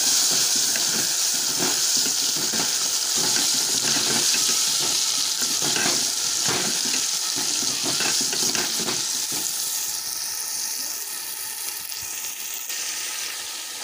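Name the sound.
tomatoes added to hot pan for cauliflower biryani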